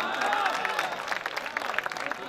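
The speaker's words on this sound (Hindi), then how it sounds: "दोस्तों इतनी कम तालियां आलिम शोहरत याफ्ता शायर के लिए" An audience at a mushaira, an Urdu poetry gathering, gives a round of moderate applause, a steady wash of clapping from a crowd with a voice speaking over it.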